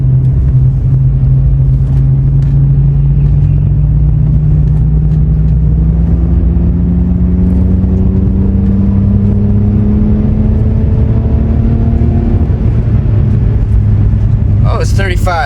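A car drives along a 35 mph road past pedestrians, its engine rumbling loud and steady with a slowly rising whine as it accelerates, close and continuous throughout.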